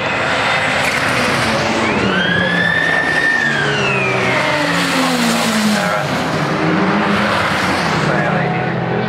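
Sports saloon race cars, Subaru and Ford Escort, at Oulton Park: loud, continuous engine roar with rising and falling revs as cars pass, a brief tire squeal, and a commentator's voice running underneath.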